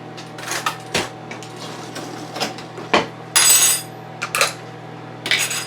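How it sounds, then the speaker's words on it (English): Sour cream is spooned into a bowl while breakfast bacon, egg and cheese pizza is being made, giving a string of close, sharp clinks and scrapes of a spoon against the dish over a steady low hum. "now I'm going to start adding ingredients. I'm going to add some sour cream."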